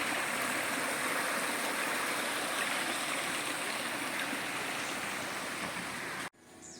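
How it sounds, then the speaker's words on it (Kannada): Small streams flow through Devarayanadurga forest with a steady, close rushing of water. It stays even and unbroken for about six seconds, then cuts off abruptly near the end. "ಸೊ ಈ ಕಡೆನೂ ಚಿಕ್ಕ ಚಿಕ್ಕ ಸ್ಟ್ರೀಮ್ಸ್ ಇದೆ"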